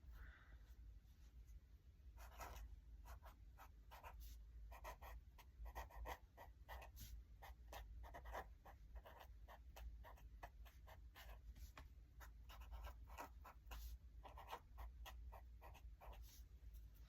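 A pen or pencil moving on paper during drawing practice, faint close scratching in short repeated strokes that continue steadily in a quiet room.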